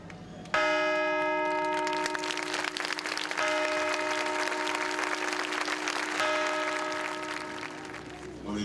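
Newly blessed church bells in Albaida, Spain ring out loudly with long resonant tones, struck again at intervals over a crowd's applause and murmur.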